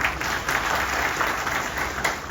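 Audience at a rural development training session on water gives a burst of steady, close, continuous clapping that fills the whole short stretch, with little talk over it.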